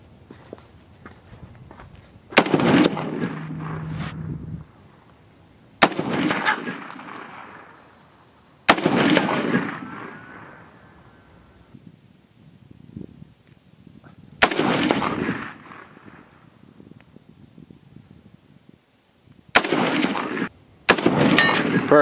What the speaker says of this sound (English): Okay, I'm shooting.